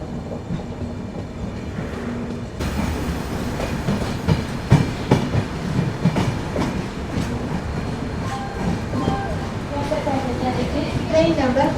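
Train noise at Kottayam railway station on the Trivandrum–Bangalore Humsafar Express, a steady rumble with irregular clanks and knocks throughout, under faint background voices.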